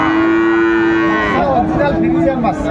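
A Friesian bull calf at a busy cattle market in Dinajpur lets out a long, loud, steady moo that stretches over most of the moment, then trails into rougher lowing with market noise behind.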